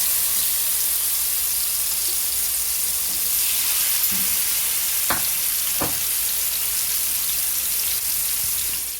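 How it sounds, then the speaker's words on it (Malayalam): Chicken fries in coconut oil in a pan with a steady, dense sizzle throughout, broken by a couple of short scraping stirs near the middle. "ചിക്കൻ അങ്ങോട്ട് ഇട്ടൊന്ന് കൊടുത്തു. ഇതിനെ നമുക്കൊന്ന് ഫ്രൈ ചെയ്തെടുക്കാം."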